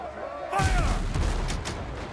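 Ship cannon fire in the pirate sailing game Windrose: a sudden loud boom kicks in and rolls into a rumbling, crackling volley lasting over a second, after someone shouts over background game sounds.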